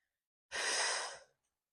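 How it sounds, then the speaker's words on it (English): A single audible exhale during a core stability exercise, one sudden breath out lasting under a second, close and alone against silence. "Breathe in, blow out,"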